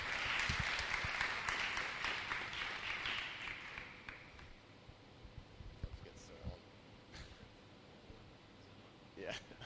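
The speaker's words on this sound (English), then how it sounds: "Give him a round of applause." A live audience claps loudly to welcome a guest speaker onto a talk-show stage. The applause swells for a few seconds, tapers away to quiet room noise, and leaves only a few scattered sounds.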